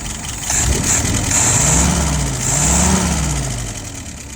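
An engine idling at about 650 RPM produces a steady, close mid-pitched hum with a slight waver in speed, running alone without any talk.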